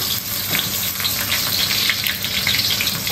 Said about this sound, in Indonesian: Okey, minyak udah hangat. Itu kita nak bak ke bawang putih ya, bawang merah, ngau cabai guys.